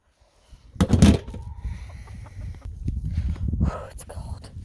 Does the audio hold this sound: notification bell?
no